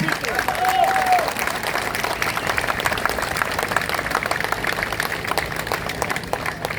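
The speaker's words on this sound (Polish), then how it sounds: "Brawa, wielkie brawa dla nich" Outdoor rally crowd applauding the fans, a steady wash of many hands clapping throughout, loud and dense, with voices and shouts mixed into the din.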